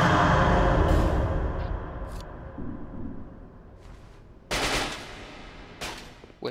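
Crossbow bolts in Dark Souls 2 fire in a rapid, harsh clatter that fades over a few seconds, followed by two sharp bursts near the end.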